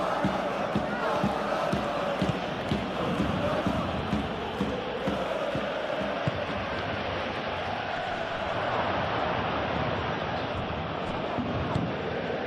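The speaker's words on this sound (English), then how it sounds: "the crowd are reacting to that now" Stadium crowd noise from a PES 21 football video game match, a dense continuous roar of reacting fans that swells and holds steady throughout, with a commentator's voice faintly over it.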